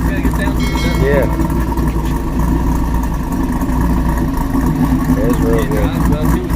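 A cammed Pontiac G8 V8 idling: a loud, steady, lumpy rumble that runs unbroken throughout at close range, with a few faint higher-pitched whines on top and people talking over it.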